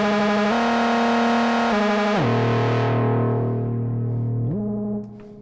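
Moog Sub37 synthesizer playing a buzzy, harmonically rich edgy tone with legato glides between sustained notes, loud and close, pitch sliding down and back up before the sound fades.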